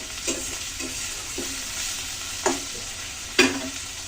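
Fish fry in hot oil in a pan with a steady sizzle, broken by several sharp scraping stirs of a utensil, the last two louder than the rest.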